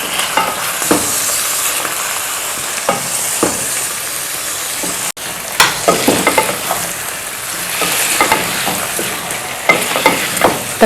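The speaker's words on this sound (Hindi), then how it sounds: "अब इसको हम थोड़ा सा भूनते हैं।" Chicken with ginger garlic paste sizzles steadily in a pan while being sautéed, with a constant frying hiss broken by repeated scrapes and stirring knocks of a spoon, up close and without talk.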